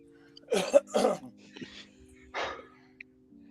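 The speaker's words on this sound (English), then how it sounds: "No, I'm coughing." A few harsh coughs in quick succession, close and fairly loud, followed by a softer cough after a short pause, with a faint electrical hum underneath.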